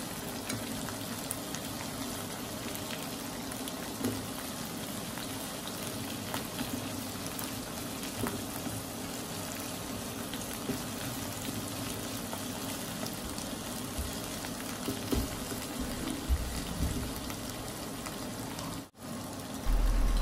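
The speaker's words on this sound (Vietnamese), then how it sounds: "Mỗi mặt mình sẽ áp chảo 1 phút." Shrimp sear in a hot pan, a continuous even frying sizzle with a soft bubbling crackle that holds steady for about twenty seconds, with a brief handling knock near the end.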